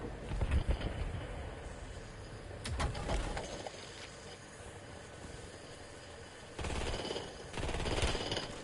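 Gunfire in a video game, several sharp shots around the three-second mark and louder bursts near the end, over a steady background of game ambience.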